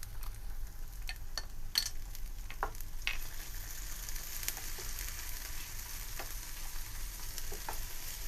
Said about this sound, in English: we're going to add in the ginger garlic paste, and we're going to saute that until you don't smell the raw garlic smell anymore